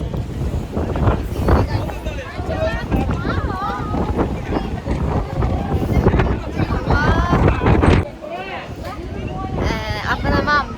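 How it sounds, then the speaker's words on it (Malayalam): Strong wind buffets the microphone on a hilltop in Wayanad, a loud continuous roar that drops off briefly before returning, with people talking over it throughout. "അതെ അതെ, ഭയങ്കര കാറ്റ്."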